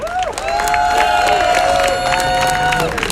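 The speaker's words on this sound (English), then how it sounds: "I want to give a huge round of applause to all the organizers who put this incredible event together" An outdoor protest crowd in Washington, DC cheers and claps loudly for event organizers, with sustained shouting voices and scattered clapping throughout.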